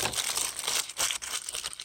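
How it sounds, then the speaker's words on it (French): Aluminium foil is crinkled and folded shut around a salmon and savory pie being prepared for camp cooking. The crisp crumpling runs in quick, close bursts for about two seconds. "On ferme le papier d'alu."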